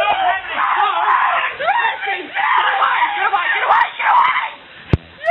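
A woman screams and shrieks almost without pause at a house gathering, loud and close, amid other agitated voices, before a sharp smack near the end.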